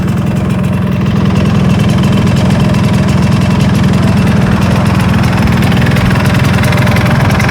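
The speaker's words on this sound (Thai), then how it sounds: "มันก็จะประมาณนี้นะท่อเดิมนะ คันเร่งเบามือดีจังเลย" A Yamaha RX-Z two-stroke motorcycle on its stock exhaust runs very loud and close, a constant buzzing, rattly engine note that holds steady throughout with no voices.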